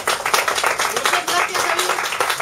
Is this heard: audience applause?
yes